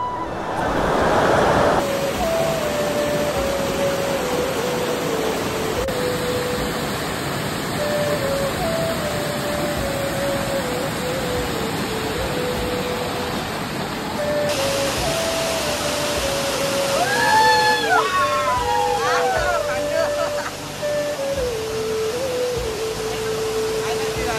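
Steady rushing water of the Rachakonda waterfall roars continuously at close range, a dense wash of noise with faint tones drifting through.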